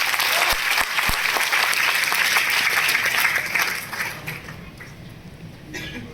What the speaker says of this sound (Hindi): एक जोरदार ताली भास्कर सर के लिए